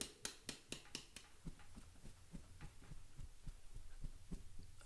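A drum is tapped very softly with the hand, giving faint muffled thumps in a loose steady pulse; a few slightly sharper hits come first, then quieter taps over a low background hum.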